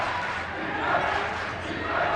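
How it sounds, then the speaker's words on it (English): Crowd noise fills a high school basketball gym on senior night as fans chant defense, a steady, dense roar that rises and falls slightly without pause. "You can hear the crowd chanting defense"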